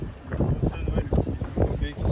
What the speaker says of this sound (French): il va y avoir un orage donc c'est pour ça qu'il y a un vent incroyable